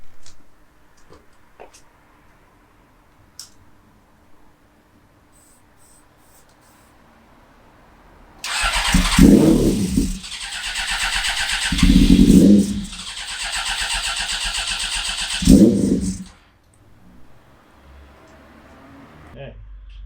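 A 1996 Suzuki GSX-R 750 SRAD track motorcycle, with the choke on, cranks and briefly catches in three loud bursts of about two seconds each, close by, between quieter stretches of faint background noise.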